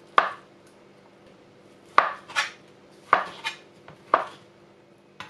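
Knife chops through boiled waxy potatoes on a board, cutting them into cubes for a German potato salad: four distinct close, sharp strikes spaced about a second apart, each with a small follow-up knock.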